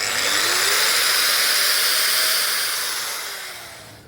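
A Dongcheng DSM 10-100 angle grinder soft-starts, its motor whirring up gradually into a loud, steady airy whine, then begins to fade as it winds down.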